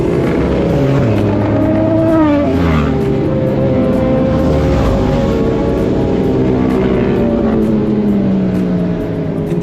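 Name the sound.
motorcycles with open mufflers speeding past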